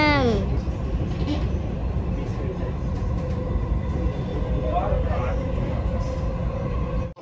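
A Dubai Metro train rumbling along with passengers aboard, a continuous low roar of wheels and motor with a rising whine at the start and soft talking in the carriage, ending abruptly.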